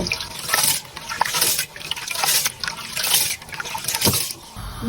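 Lentils are swished and rinsed in water, giving a close, continuous sloshing and trickling with uneven surges, fairly loud and without speech.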